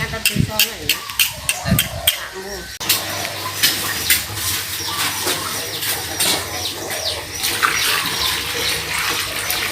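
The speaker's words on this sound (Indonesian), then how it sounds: "Kalau hari Minggu hari santai menyiram-nyiram bunga." Garden flowers in a yard being watered during the dry season on a windy morning, a steady broad rush of spraying water running continuously after a few sharp knocks at the start, with birds chirping faintly in the background.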